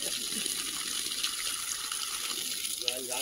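Water gushes steadily from an opened outlet, washing over the surface of a sandy field in a continuous, close, broadband rush with slight splashing variations.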